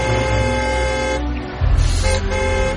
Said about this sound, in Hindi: जो ठीक मेरे पीछे थी वो हॉर्न पे हॉर्न दिए जा रही थी।